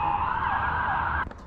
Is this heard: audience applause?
no